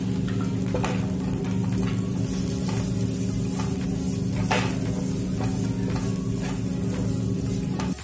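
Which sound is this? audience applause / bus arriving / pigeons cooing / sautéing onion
sautéing onion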